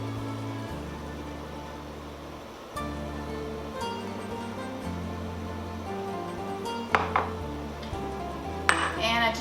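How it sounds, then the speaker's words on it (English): Spoon stirring creamy risotto with butter and Parmesan in a pot, soft scraping with occasional clinks and taps against the metal over a low steady hum. "And I just need to stir to incorporate everything."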